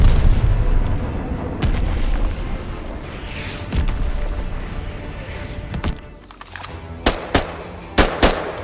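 Mortar barrage and gunfire in Call of Duty Vanguard multiplayer, dense rumbling battle noise with booms for several seconds, then sharp, loud, separate shots near the end.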